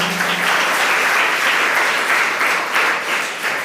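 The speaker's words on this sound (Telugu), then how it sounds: "మనం గట్టిగా చప్పట్లు కొడదాం ప్రభుకి" Congregation at a fourth Advent Sunday Mass clapping loudly for the Lord, a full, sustained roar of many hands that swells and eases slightly, with no voices heard over it.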